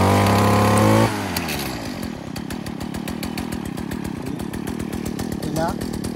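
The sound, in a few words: STIHL FS70C brushcutter engine starting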